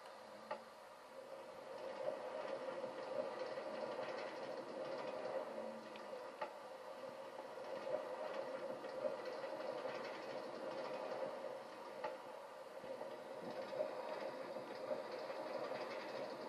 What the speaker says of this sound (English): next up is the Whirlwind, which is the SPF Visa spinning coaster.